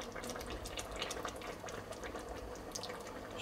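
Water trickles and splashes as a little is poured into a cooking pot of chicken and rice, a steady, soft liquid pouring sound heard close up for several seconds with no talking.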